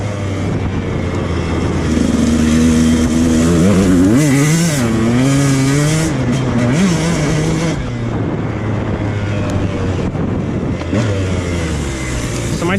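An enduro motorcycle being ridden hard, the engine close and loud, revving up and down repeatedly in short climbing and falling bursts over a constant rough drone.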